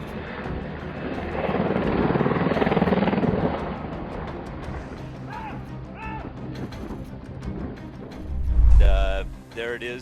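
A Black Hawk helicopter flies near a mountainside, its rotor and engine roar swelling and then easing, with a heavy low thump near the end and people talking over it.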